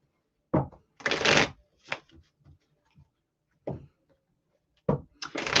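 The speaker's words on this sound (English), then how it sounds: "I'm going to shuffle again here" Tarot cards being shuffled by hand in short separate bursts of riffling and soft slapping, close and fairly quiet, with silent gaps between the bursts.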